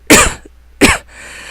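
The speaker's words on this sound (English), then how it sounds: "I'm gonna cough, so turn the volume down if you need to" Two sharp, close coughs from a woman alone in a quiet room, the first at the start and the second near the middle, with a faint throat sound between them.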